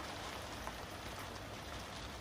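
Steady rain pours down outside around a van, a dense, even hiss of drops striking surfaces, constant and fairly close with no voices.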